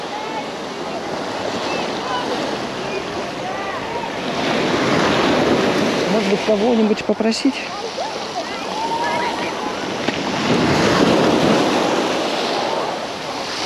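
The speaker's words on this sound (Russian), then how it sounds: "волна достала" Sea waves surge and break on a Black Sea beach at Lazarevskoye, a steady close wash of surf with two louder swelling crashes, wind buffeting the microphone and someone speaking briefly.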